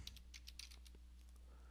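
Quick, light keystrokes on a computer keyboard, a short run of soft clicks at close range over a faint steady hum, fading toward the end.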